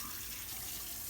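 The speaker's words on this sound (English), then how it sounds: "then you want to run warm water" Warm water runs steadily from a kitchen tap into a sink, a brief continuous hiss and splash heard alone.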